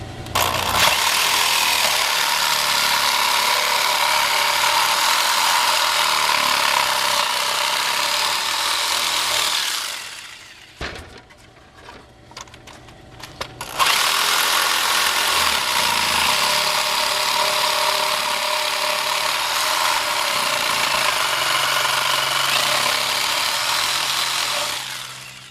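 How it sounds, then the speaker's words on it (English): A jigsaw cuts out the opening of a wooden bird feeder, a loud buzzing whine in two long runs with a short pause between, close up and with no talk. "No, jigsaw."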